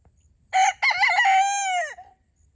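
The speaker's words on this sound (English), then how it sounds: "So I think I better get off and feed these chickens." A rooster crows once, loud and close, in a single rising then falling call lasting over a second, with no talk around it. The sound comes from a backyard flock of chickens waiting to be fed.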